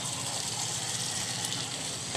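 Potatoes sauté in spice masala in a pan for malai aloo, giving a soft, continuous sizzle with faint stirring through the short stretch.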